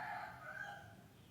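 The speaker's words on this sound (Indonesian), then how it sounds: "siapa pu ayam yang terlalu beribut di luar?" A rooster crows outside, one long drawn-out call that is faint and distant against a quiet background.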